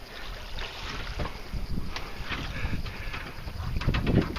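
A Catalina 30 sailboat under sail on Lake Charlevoix, Michigan, with steady water wash and wind rush against the hull, a continuous moderate ambient sound with no talking.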